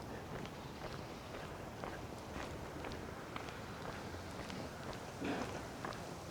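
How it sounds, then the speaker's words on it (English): Footsteps on a quiet residential street, Toronto's Palmerston Avenue in autumn, tap out a steady, even walking rhythm close by over a soft background hush, with no talking. "You can hear every footstep I'm taking."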